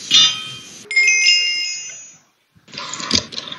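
A phone ringtone for an incoming call from a friend plays as a bright, steady electronic melody, loud and close, cutting off abruptly before a short pause and then the noisy clatter of the line picking up.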